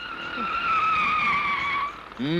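Car tires skidding hard to a stop in a movie scene, a loud sustained screech lasting nearly two seconds, followed by a brief voice at the end.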